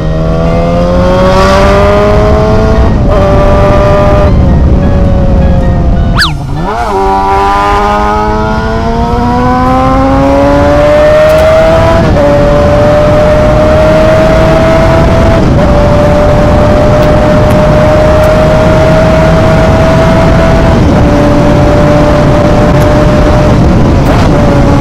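A Yamaha YZF-R6 sport motorcycle engine drones loudly and continuously while being ridden, its pitch climbing through gear changes and then holding a steady high whine, with wind rush underneath throughout.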